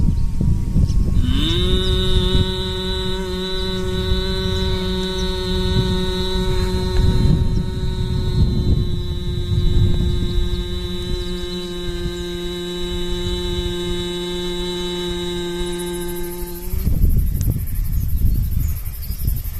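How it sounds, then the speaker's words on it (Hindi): Steady nasal humming like a bee during bhramari yoga breathing with the mouth closed, one long sustained tone of about fifteen seconds over a faint background hiss, stopping abruptly. "धीरे धीरे भौरी की आवाज में नाक के द्वारा ये सांस निकालो और मुंह बंद रखना है"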